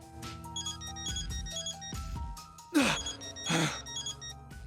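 A phone rings in the video game Death end re;Quest, a tonal ringtone chiming over game music, with two louder swelling bursts near the end.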